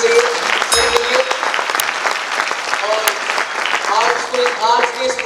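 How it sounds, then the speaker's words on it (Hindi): A large crowd at the AWPL Jashn-E-Kokan gathering in Mumbai breaks into loud, sustained applause, dense clapping with shouting and cheering voices rising through it. "एक बार जोरदार तालियां होनी चाहिए सर के लिए"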